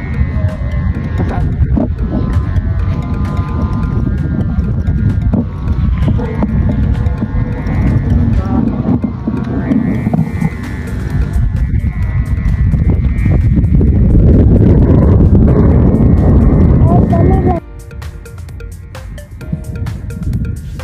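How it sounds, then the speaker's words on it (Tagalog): Strong wind roars and buffets loudly against the microphone in heavy, continuous gusts, surging stronger before dropping off abruptly near the end. "grabe yung hangin dito, sobrang lakas"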